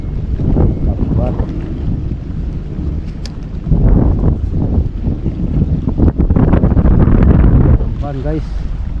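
Strong gusting wind buffets the microphone aboard a small fishing boat at sea, rising and falling in loud rumbling surges, with someone talking over it at intervals.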